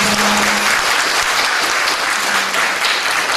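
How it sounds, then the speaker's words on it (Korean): Congregation at a Sunday church service applauding together, a dense, steady wash of many hands clapping close by for the full length, with a faint low tone underneath. "박수 한번 하겠습니다."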